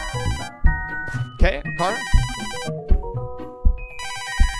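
A phone ringtone in a Floor is Lava style game plays as repeated bursts of bright electronic tones, loud and close, with an excited voice talking and exclaiming between and over the rings.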